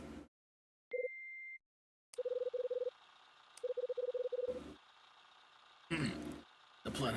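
Answering-machine phone tones from the video game Last Window: Secret of Cape West, with a brief beep, then a run of rapid electronic pulses, a pause and another burst, followed by short noisy clicks.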